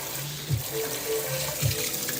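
A tap pours cold water over tie-dyed fabric to wash out excess dye, giving a continuous hiss of running water with a couple of soft splashes as the fabric is handled.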